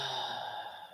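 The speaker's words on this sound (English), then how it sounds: "Taking a deep breath." A single slow, deep breath taken during a calm spoken prayer, soft and close, fading out over about a second.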